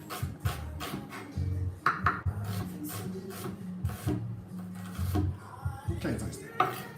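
Knife slicing red onion thinly on a board, a series of crisp irregular chopping taps and scrapes, close and fairly clear, with some talking mixed in.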